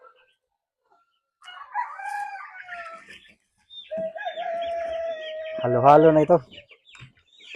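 Backyard chickens of mixed breeds, Plymouth Rock, Silkie and native birds, cluck and then let out a clear rooster crow close by, with someone speaking over them.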